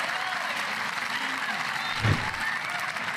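Tennis crowd applauding and cheering after a tweener shot, a broad steady wash of clapping with a brief louder swell partway through, heard under ongoing noise.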